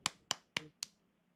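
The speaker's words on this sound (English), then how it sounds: "So I'm gonna give you some applause for that one." Four slow, evenly spaced hand claps ring out close and crisp, each a sharp isolated smack with quiet gaps between, from a single person giving mock applause.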